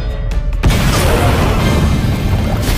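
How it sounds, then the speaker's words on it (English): A huge blast from a mix of coal dust, alcohol-based fuel and sulfuric acid erupts suddenly after a quiet start, then roars on as a loud, sustained rumbling wash of noise. "石炭の粉やアルコールを混ぜた燃料と硫酸が混ざって、見た目だけはハリウッド級の大爆発だ"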